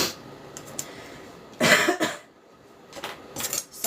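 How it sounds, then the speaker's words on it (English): A couple of short, sharp coughs from a woman with a tickle in her throat, close and clear against a quiet room, followed by softer throat noises. "I just have a little bit of a tickle and a cough."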